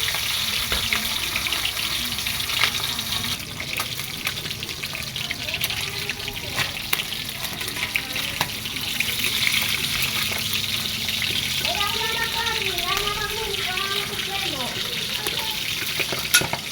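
Milkfish (bangus) frying in a hot pan: a steady, loud sizzle and crackle fills the whole stretch, with brief clatters and a burst of squeaky, warbling noise near the end.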